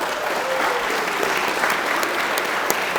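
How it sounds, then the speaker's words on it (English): Wedding guests at Rosewood Farms in Elkton, Maryland applaud themselves, a steady wash of clapping from a sizable crowd lasting about three seconds with a few sharper claps near the end. "please, give yourselves a nice round of applause for being here today"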